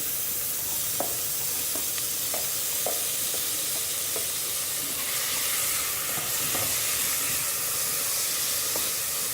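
Steady, loud sizzling and hissing of onion, carrots and beans frying in a pan, with occasional soft scrapes from stirring.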